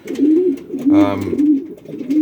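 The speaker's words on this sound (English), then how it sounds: "Lovely pigeon." A breeding pigeon cock coos in repeated rolling phrases close by, with a voice speaking briefly over the middle of the calls.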